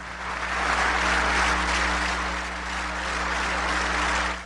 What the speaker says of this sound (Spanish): lo aplauden de pie